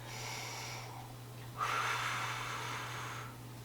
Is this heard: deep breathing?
yes